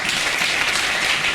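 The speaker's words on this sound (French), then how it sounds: "Applaudissez-le." A congregation at a night prayer vigil breaks into applause, a brief, dense wash of many hands clapping at once, close and even throughout.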